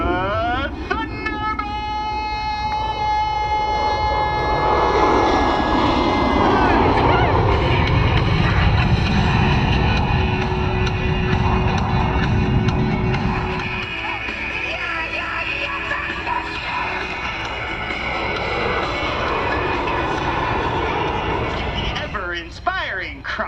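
US Air Force Thunderbirds jets at the Selfridge ANGB Michigan air show, a loud roaring jet pass swelling and fading with wind buffeting, under an announcer speaking over loudspeakers.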